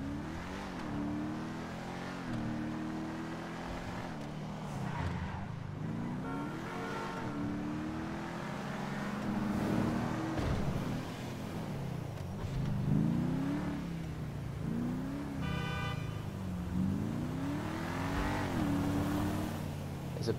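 A sporty Ubermacht Revolter engine in GTA 5 rises and falls through repeated revs and gear shifts, its loud mid-range drone rolling steadily with no voices over it.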